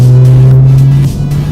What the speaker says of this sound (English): When the turbos spool up, it is something giving you a kick.